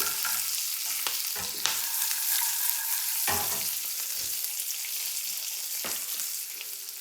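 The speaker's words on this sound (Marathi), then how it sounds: "कढीपत्ता घालायचा आहे, थोडेसे शेंगदाणे" Curry leaves and peanuts sizzle in hot oil in a pan for dadpe pohe, a steady close frying hiss broken by occasional scraping stirs and small pops.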